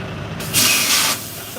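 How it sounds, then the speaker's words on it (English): Short burst of WD-40 aerosol sprayed onto a rusty part of a truck, a close hiss lasting about half a second, with faint background noise. "I'm gonna see if I got some WD-40 in there. Spray it. Shoot some in there."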